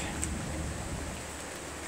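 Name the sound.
rain falling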